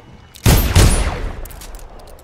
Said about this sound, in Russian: Нажал на правую кнопку, и он выстрелил.